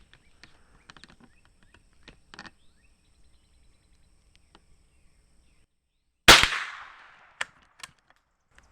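A Savage 120A rifle fires one sharp, loud crack after a long quiet stretch, followed by a couple of much fainter sharp clicks, outdoors at a cardboard target.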